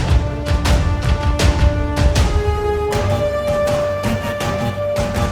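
Sustained orchestral horn lines ring out over steady percussive hits, the music full and loud throughout.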